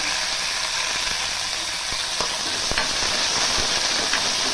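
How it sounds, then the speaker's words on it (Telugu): Tender tamarind leaves frying in a pan over a steady, close sizzle, with scattered clicks and scrapes from stirring and no talking. "ఈ చింత చిగురు స్టవ్ ఆఫ్ చేసి పచ్చివాసన పోవడానికి ఇలా ఒకసారి వేయించాలండి."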